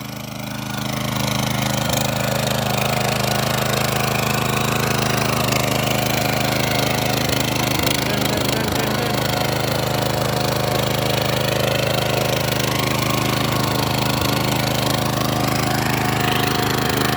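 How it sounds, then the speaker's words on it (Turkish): A small garden tiller engine runs steadily close by in a village garden, a loud, continuous mid-pitched chugging drone with slight fluctuations, alone without speech. "Tırtırı motoru bir deneyeceğim ben de. Ve bu küçük bahçe motoru."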